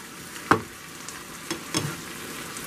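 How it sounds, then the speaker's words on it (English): Ground beef browning in a pan for chili gives a soft steady sizzle, broken by a few sharp clacks of a utensil stirring and scraping at irregular moments, close by, with no talking. "now I'm browning up the ground beef to put into my chili"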